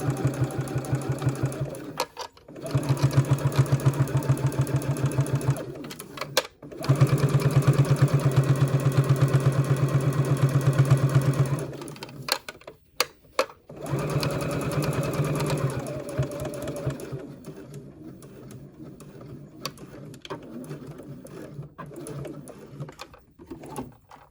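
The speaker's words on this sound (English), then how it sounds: "I like to start and stop my stitches in a section of the fabric that matches my thread" A sewing machine stitches black thread through fabric for a wrist strap, running in loud, close, steady bursts separated by short pauses, with a quieter slower run near the end.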